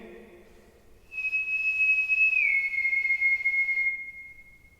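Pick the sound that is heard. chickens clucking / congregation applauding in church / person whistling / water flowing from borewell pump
person whistling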